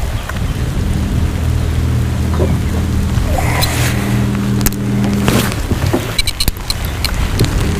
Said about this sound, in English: That rain is starting to blow in sideways.